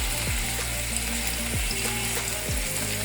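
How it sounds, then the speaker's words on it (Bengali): Chicken shashlik shallow-frying in a little oil, a steady close sizzle and crackle with a few sharp scraping clicks from turning the pieces, no voices. "বেশি তেলের দরকার হয় না, অল্প শ্যালো ফ্রাই করা যায় তেলে।"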